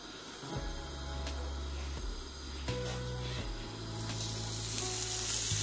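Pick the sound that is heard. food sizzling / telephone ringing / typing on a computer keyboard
food sizzling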